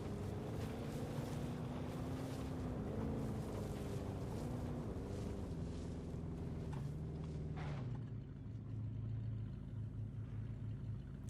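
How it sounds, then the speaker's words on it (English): A car engine in the dinosaur park game Jurassic World Evolution 2 drones steadily with a low rumble that shifts pitch as it drives over grass, continuous and fairly loud with wind-like noise. "And the engine sounds really nice, too."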